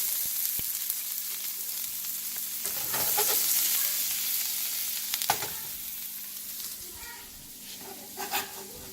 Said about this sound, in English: And if you hear that sizzle, you know it's good. It's ready to saute.